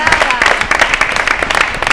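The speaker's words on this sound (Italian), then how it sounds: "Adesso va l'applauso." Studio audience applauding on an Italian television programme, loud, busy clapping with a voice speaking over it.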